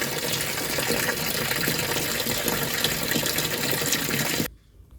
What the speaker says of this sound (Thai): รอ แป๊บนึงรอน้ำเยอะหน่อย